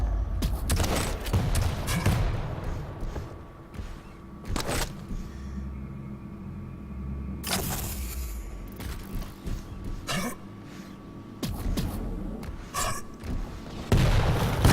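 Rocket launcher explosions in a competitive multiplayer video game match, several sharp booming blasts spread out over the stretch, interleaved with quieter game ambience and faint shuffling.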